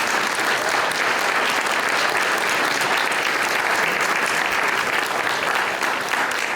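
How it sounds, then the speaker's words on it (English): A dinner crowd at the Boyertown Area Progress Dinner gives loud, sustained applause for the event's gold sponsors, a dense wash of many hands clapping steadily throughout with no break. "Let's give them a round of applause."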